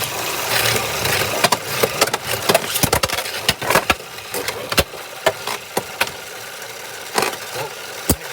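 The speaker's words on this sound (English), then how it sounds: "I'm going to make the stadium spin counterclockwise for this matchup" Beyblade tops whirl inside a motorized stadium spinning counterclockwise, a continuous loud mechanical drone broken by frequent sharp plastic clacks as the tops collide.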